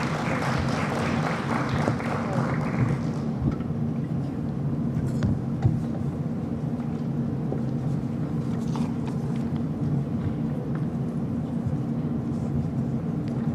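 Audience applause at a high-level economic growth forum with the Minister of Finance, a dense burst of clapping for the first three seconds that fades into a steady low room murmur.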